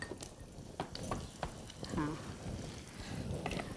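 Spring rolls frying in hot oil, a soft broadband sizzle with faint bubbling and occasional pops, under a person talking nearby.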